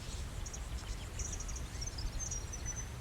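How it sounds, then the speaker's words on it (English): Ordinary birds tweeting outdoors, several faint high chirps and short trills scattered over a low, steady ambient rumble, somewhat distant and quiet, no talking. "Those are just normal bird tweets."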